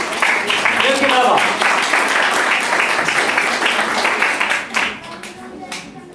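An audience at a children's literary competition award ceremony claps warmly, with individual hand claps audible in the full applause and some voices underneath; the clapping thins and fades out toward the end.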